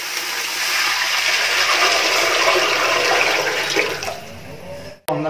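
Water is poured into a cooking pot while making beef biriyani: a loud, steady gush for about four seconds that tapers off, then a brief knock at the end.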